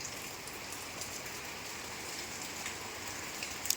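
Steady rain during the Tulsi wedding season, a continuous even hiss of drops with faint scattered patters, close and unbroken with no voices.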